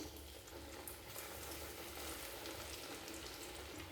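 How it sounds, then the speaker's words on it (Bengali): Chicken cutlets fry in hot oil in a pan, making a steady, close, dense sizzle that holds evenly throughout. "এইভাবে প্রত্যেকটা কাটলেট তেলে ভেজে নেব"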